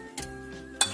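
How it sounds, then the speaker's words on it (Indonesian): Food gets stirred in a pan, with two quick metallic scrapes and clinks of a utensil against the pan over a faint background, brief and close. "Kita aduk rata."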